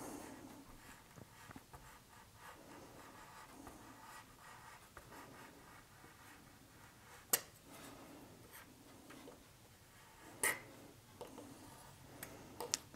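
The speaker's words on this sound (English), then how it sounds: "So I'm just trimming off the excess at the back here" Faint scratchy rubbing and small ticks as a rounded-end scalpel trims excess compo, with a few sharper clicks scattered through the quiet, slow work.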